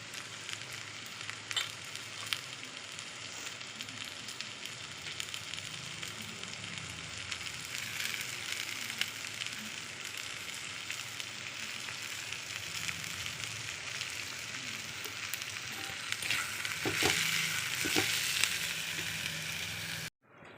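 Manathakkali greens fry with onion and salt in a pan, making a continuous crackling sizzle like light rain. The sizzle swells louder toward the end with a few sharp stirring clicks, then cuts off, and no one talks.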